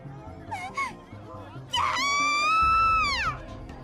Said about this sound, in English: her voice joining the cacophony created by the other screaming students